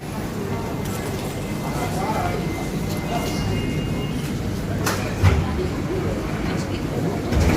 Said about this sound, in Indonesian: Jadi di sini perpindahan antar gate itu pakai kereta.